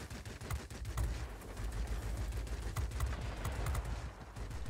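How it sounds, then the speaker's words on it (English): Rapid bursts of aircraft cannon fire from an IL-10M ground-attack plane in World of Warplanes, steady rattling volleys over engine drone, fairly quiet and without talk. "these guns just absolutely shred anything that comes across"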